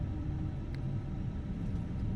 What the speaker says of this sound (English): And now we will start engine number 2.